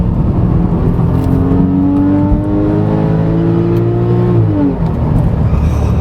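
A Porsche 911 Carrera 4S with four-wheel drive drops into second gear for a decreasing-radius turn, its engine note loud and close, pitch sweeping steadily upward, then falling sharply with the downshift, almost no talk over it.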